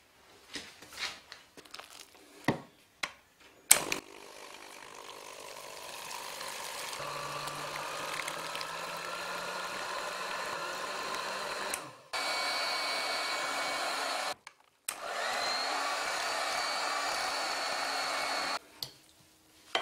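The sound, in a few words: electric hand mixer beating crêpe batter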